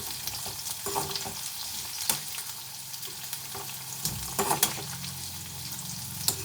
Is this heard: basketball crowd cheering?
no